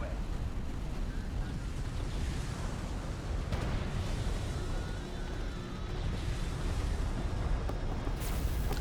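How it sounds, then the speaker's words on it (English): Missile barrage explosions from a real-time strategy battle in Deserts of Kharak rumble continuously as a dense, low roar over the full stretch, with an ongoing wash of distant blasts and no clear pauses. "Oh, another missile barrage."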